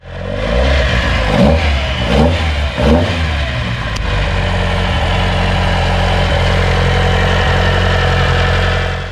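A Datsun 510 SSS with a modified L20B engine bored to 88mm revs hard several times with a raspy, aggressive tone, then settles into a loud, steady, lumpy idle close by.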